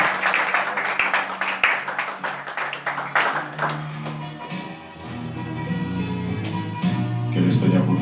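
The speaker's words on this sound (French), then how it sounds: "Est-ce qu'on peut donner une acclamation au Seigneur?" A church congregation at a French-language worship service bursts into applause for the Lord, with dense, lively clapping for about four seconds before it fades under sustained music tones.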